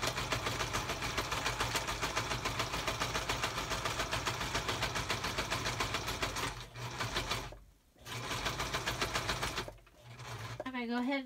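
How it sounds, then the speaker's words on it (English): A sewing machine running a zigzag stitch to attach an envelope flap onto a coffee-dyed paper page, a fast steady mechanical whir that pauses twice briefly before restarting, with a short voice at the end. "we're sewing the flap of the envelope onto one of the coffee dye pages"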